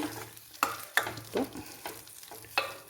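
Curry poured into a hot tempering pan while making payar erissery, a Kerala lentil dish, gives short bursts of sizzling and stirring scrapes at close range, with no talking.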